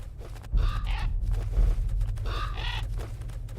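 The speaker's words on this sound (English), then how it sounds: "Can hear the birds now." Birds chirp and call in the video game Metal Gear Solid: The Twin Snakes, a few bright bursts of song rising over a steady low ambient rumble from the game.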